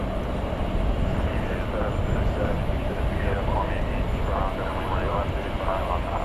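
Airliner bound for Seoul taxiing through a turn at DFW airport at night, a steady, loud engine roar held throughout with a continuous broadband rumble and faint background voices.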